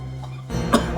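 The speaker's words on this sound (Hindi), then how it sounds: "सांप का टुकड़ा देखकर इतनी खांसी?" Coughing from a person during a tense CID crime-drama scene, a brief loud cough burst in the second half after a quieter start, close and alone without talk.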